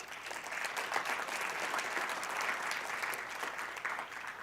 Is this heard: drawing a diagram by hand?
no